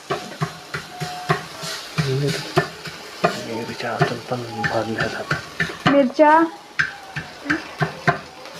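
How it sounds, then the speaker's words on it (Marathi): Green chilies and garlic roast on a hot griddle, crackling and sizzling as they are stirred and pressed with sharp repeated scraping taps; a voice talks intermittently over the cooking. "मिरच्या छान भुजून घ्यायच्या असतात, कारण कच्च्या असतात ते ठेचल्या जात नसतात"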